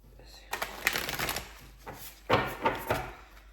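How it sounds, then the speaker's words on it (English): Shuffling a deck of affirmation cards during a card reading, with bursts of quick riffling and flicking clusters, close and fairly quiet, separated by short pauses. "I don't know why I wanted to shuffle it that way."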